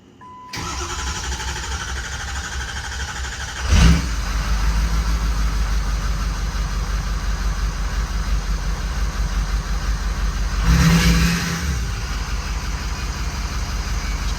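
A 6.0 Powerstroke diesel truck engine with a faulty injector cranks and starts, then idles loudly and steadily up close, with a second revving surge later on.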